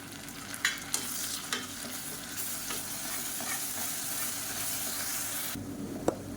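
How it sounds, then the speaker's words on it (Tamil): Onions and ginger garlic paste sauté in a pan with a continuous close sizzle and hiss, broken by several sharp spatula scrapes and clicks. "இப்போ வெங்காயம் நல்லா வதங்கிட்டு இருக்கு இந்த ஸ்டேஜில் இஞ்சி பூண்டு பேஸ்ட்டு சேர்த்துக்கலாம்"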